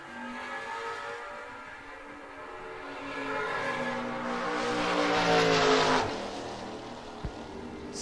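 A Nova drag race car launches off the transmission brake at a no-box open drag race, its engine roar swelling to a loud peak and then fading, heard from some distance.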